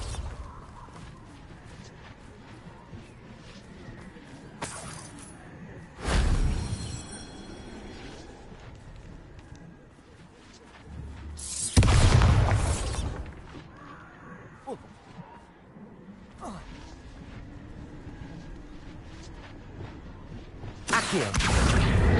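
The Bombarda blasting spell goes off in Hogwarts Legacy, three loud bursting explosions spaced several seconds apart over a low ambient bed. Bits of speech come through between the blasts.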